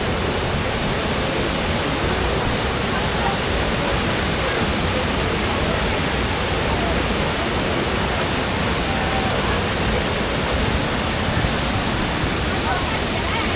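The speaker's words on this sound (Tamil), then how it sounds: "இங்கே பாரு, ஃபால்ஸ் சூப்பராக இருக்கு." Waterfall at Mussoorie roaring steadily and loudly throughout, a dense continuous rush of falling water filling the whole clip with no pauses.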